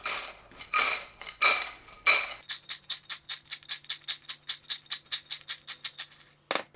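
Cheetos and Cheez-Its snack mix tossed in butter: a few loud rustling shakes, then a quick regular run of around twenty bright rattling clinks of the pieces against a bowl or pan, close and unaccompanied by speech.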